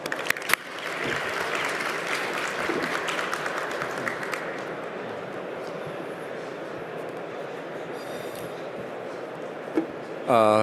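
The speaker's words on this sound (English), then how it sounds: "Please welcome him with a big round of applause." Sustained applause from a large crowd at a KOTRA business conference on Korea's wind power industry, steady and dense from start to finish, with a brief burst of louder noise near the end.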